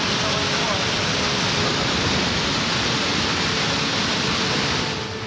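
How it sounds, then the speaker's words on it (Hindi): A heavy torrent of floodwater pours from a hillside into the flooded Kedareshwar temple compound in Ratlam during heavy rain, making a loud, continuous roaring rush that stays steady throughout. "पहाड़ी से पानी की तेज धारा मंदिर परिसर में गिर रही थी"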